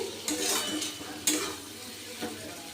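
Spice paste with salt stir-fried in a pan while cooking chicken posto: a spatula scrapes in several strokes against a soft, steady sizzle, close and moderately loud, with no talking.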